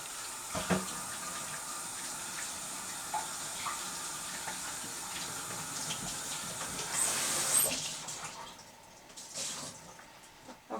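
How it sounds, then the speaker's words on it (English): A foam paintbrush is rinsed in water at a sink while decorating jars with lace, giving a steady close hiss of running, splashing water throughout with a louder surge near the end. "we're going to clean out our brush, our foam brush in water"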